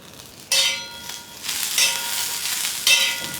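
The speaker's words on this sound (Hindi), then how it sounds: "बस हरा धनिया डालने के बाद हमने 25 से 30 सेकेंड ऐसे ऐसे सौटे किया।" Green coriander sizzles with green chillies and garlic in a pan for mutton thecha, frying loudly in bursts as it is stirred, with no talk.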